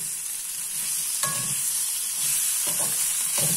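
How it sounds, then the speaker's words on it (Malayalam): Green chili chutney stirred in a pan after tamarind juice and asafoetida go in, steady close sizzling with a few scraping stirs, no voices. "അപ്പൊ പുളിസത്തു ഇട്ട്, കായപ്പൊടി ഇട്ട്, ഒന്നുകൂടൊന്ന് ഇളക്കി"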